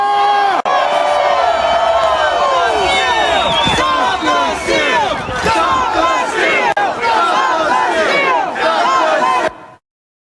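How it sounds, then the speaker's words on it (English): A large political crowd chants a slogan in loud unison, heard from inside the crowd as roaring, rhythmic massed voices with overlapping shouts and cheers, close and dense until cutting off abruptly at the end. "Here's what that chant sounded like from the crowd's perspective."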